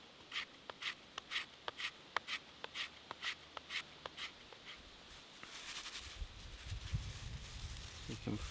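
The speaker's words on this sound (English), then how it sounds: "we'll scrape away the inside of that western red cedar and make a fine dust." Knife blade scraping the inside of western red cedar into fine dust, a series of short, crisp, evenly spaced scrapes up close, giving way to softer rustling and handling noise toward the end.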